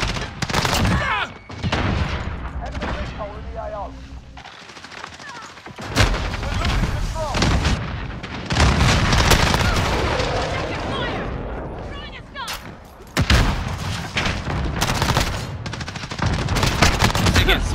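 Bursts of video game gunfire, repeated volleys and rapid shots arriving in loud clusters with short gaps, mixed with voices talking over the action.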